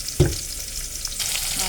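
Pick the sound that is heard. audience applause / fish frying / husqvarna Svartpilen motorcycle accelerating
fish frying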